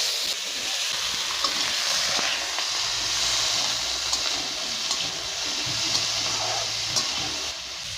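Small radhuni seeds tempering in hot oil give a steady, close sizzle and hiss that runs unbroken for several seconds, with a faint low rumble underneath.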